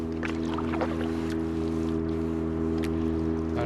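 A motorboat engine drones steadily across a calm lake near the Canadian border, a continuous low hum holding at even loudness throughout, with no voices.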